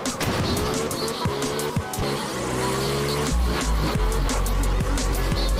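Tires squeal and skid loudly and continuously while a car drifts in the game Absolute Drift, engine droning underneath and growing heavier near the end of the run.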